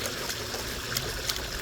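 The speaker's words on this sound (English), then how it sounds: "I'm just gonna get some water in there, wet this down a bit" Water pouring into gold prospecting paydirt to wet it down, a continuous trickling and splashing flow at moderate level, no talking.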